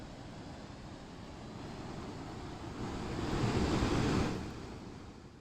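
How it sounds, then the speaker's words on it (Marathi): Lingmala waterfall near Mahabaleshwar in Satara plunges about 500 feet. It makes a steady, distant rushing roar that swells louder for a moment before easing back, with no voices. "महाबळेश्वर जवळील लिंगमळा धबधबा सुमारे 500 फूट उंचीवरून कोसळतोय।"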